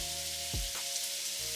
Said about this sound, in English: Then you go ahead and lay your lamb chops down